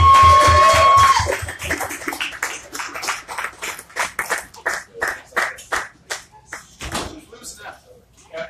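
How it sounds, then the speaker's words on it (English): A small group applauds at a live music show at Yazoo BBQ, the clapping thinning into scattered individual claps that fade out, with music briefly audible at the start. "Give her a round of applause, everybody."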